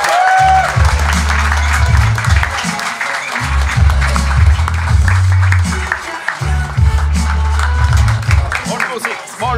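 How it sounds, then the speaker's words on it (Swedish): An audience at a live podcast recording applauds, a continuous wash of clapping heard over music playing underneath. "En smittande applåd för Rille!"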